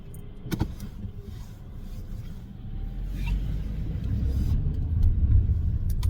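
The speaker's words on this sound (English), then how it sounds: "that was a big old 18-wheeler truck trying to turn" Traffic noise from an 18-wheeler truck turning among cars, heard from inside a car as a steady low engine rumble that builds toward the end, with a few brief knocks and clicks.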